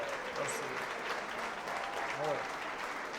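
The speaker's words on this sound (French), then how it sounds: "Ça mérite des applaudissements." Audience applause at a French stand-up comedy show, a dense steady wash of clapping filling the hall, with a few voices calling out over it.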